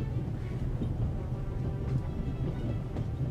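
A moving train in The Raven adventure game rumbles steadily with a low, continuous rolling drone and faint rhythmic rail clatter, heard alone.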